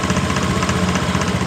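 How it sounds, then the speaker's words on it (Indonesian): A Honda Beat ESP scooter engine idles normally, a steady, even mechanical chug recorded up close and fairly loud, running alone without voices. "motor ini hidup dengan normal"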